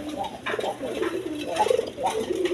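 A pair of Khormona villager pigeons coo repeatedly at close range, soft throaty rolling calls in a loose rhythm over faint background noise, with someone speaking nearby.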